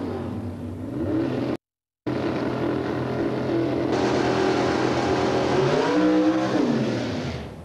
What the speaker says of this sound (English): Tim Cook completes his burnout, coming out alongside Dave Mingay.